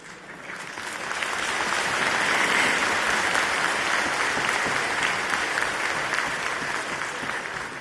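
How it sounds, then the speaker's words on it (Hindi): An audience at a speech by PM Modi bursts into applause, the clapping swelling over the first second into a steady, dense roar of many hands that holds at full strength, then eases slightly toward the end. "उसमें तो ताली बजा सकते हैं।"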